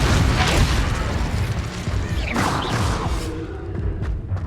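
Confringo explosion spell in the Hogwarts Legacy video game, a loud dense burst with booming low rumble and crackling debris that swells through the first seconds and then fades into lighter clattering tails.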